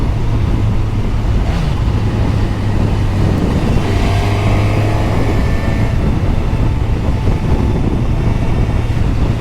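A 2022 Suzuki GSX-S 1000 GT motorcycle fitted with side cases accelerates on an open road, its engine tone climbing under heavy rushing wind noise that stays loud and constant throughout.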